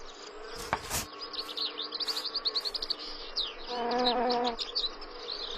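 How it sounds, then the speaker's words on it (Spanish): Insects buzz among spring flowers rich with nectar, a close, fluttering hum that swells and fades, with quick bird chirps and tweets scattered throughout. "el néctar fluye en abundancia y atrae a numerosos insectos"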